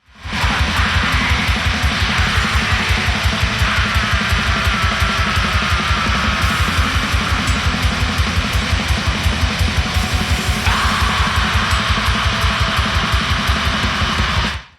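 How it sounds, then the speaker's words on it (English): Dense, loud atmospheric black metal with fast relentless drumming and a wall of distorted guitars, continuous throughout. "the one thread that runs through it is probably atmospheric black metal"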